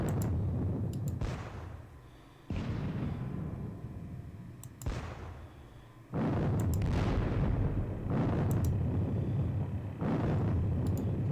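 Artillery cannon fire in a Gettysburg war game: a series of heavy booming blasts, about four or five, each with a sharp onset and a long rumbling decay, loud and fairly close, with no voices.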